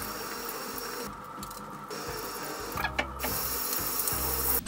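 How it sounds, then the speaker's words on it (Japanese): Running water from a tap or shower rinses Daiso hair dye out of hair in a steady hiss, with brief interruptions as the flow is moved or blocked, close and fairly loud, with no voices. "今20分経ったのでこちらを流していきたいと思います"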